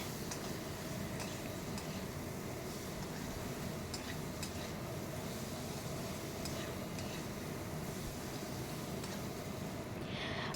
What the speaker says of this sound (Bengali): নুন আর হলুদ দিয়ে আমি আলুটাকে নাড়াচাড়া করে একটু ফ্রাই করে নিচ্ছি